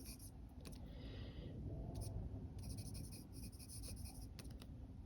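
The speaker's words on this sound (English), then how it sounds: "let me write this down." A pen scratches across paper while ink is written by hand, producing soft, faint strokes in short bursts and pauses with a quiet room background.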